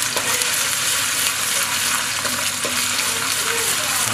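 Spices for a spicy crab curry sizzle gently in oil over low heat, a continuous dense frying hiss with a few faint stirring clicks, close and steady with no talk.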